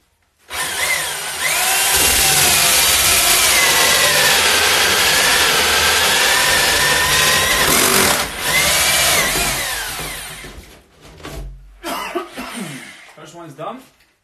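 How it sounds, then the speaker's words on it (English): A large power drill boring holes whines steadily for several seconds up close, then winds down and stops, followed by a few short clattering handling noises. "So I will drill the rest of the holes, and you can watch me while I'm doing that."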